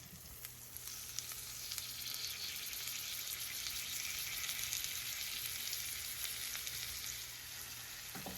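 Broccoli sautés in a hot pan for a home steak and shrimp hibachi meal. The sizzle holds steady, close and fairly quiet, for the whole stretch, with light crackling spread through it and no voices.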